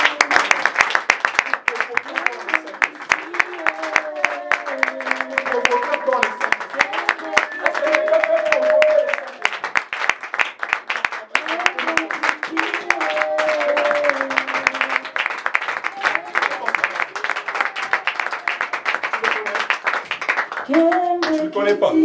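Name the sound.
congregation applauding in church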